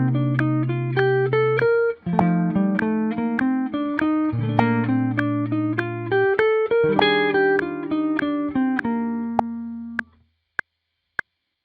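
An instrument plays ascending chord-scale runs over the chord changes, one chord per bar, in steady phrases regrouping every two bars, then closes with a few isolated plucked notes and silence.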